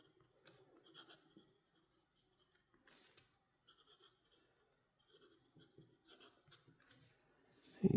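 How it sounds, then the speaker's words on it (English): A fountain pen nib writes a sample with Scribo Grigio ink, producing soft, close scratchy strokes in short bursts with quiet gaps between them. "Let me do a quick writing sample."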